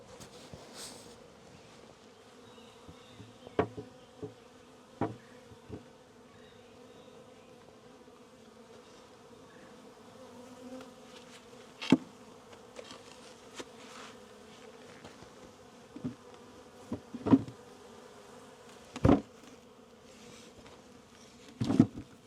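Honey bees buzz steadily in a soft, close drone while a bee package is installed, with scattered clicks and knocks from handling the gear.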